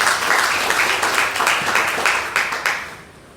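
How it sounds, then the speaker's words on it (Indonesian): A church congregation claps together at a Christmas service, a dense burst of applause that pulses in waves and then fades out toward the end. "Kasih tepuk tangan untuk Tuhan."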